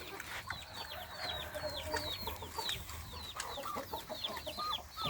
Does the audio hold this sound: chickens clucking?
yes